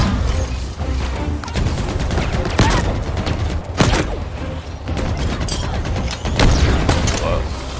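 Rapid gunfire and booming weapon shots from the Halo Infinite video game, with bursts and sharp blasts over a dense, continuous roar of battle.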